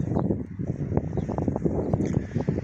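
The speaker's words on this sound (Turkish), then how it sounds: "Rüzgar çok var abi bugün, çok var." Strong gusty wind on a road, a rough, uneven rumble buffeting close against the microphone for the whole stretch, with no voices.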